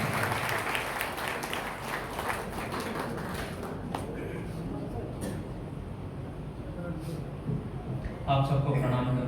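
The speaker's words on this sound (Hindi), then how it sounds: "जोरदार तालियों से स्वागत कीजिए" Applause from the audience at a Hindi comedy poetry gathering welcoming a poet onto the stage, a dense, steady wash of clapping that continues throughout at moderate loudness and swells briefly near the end.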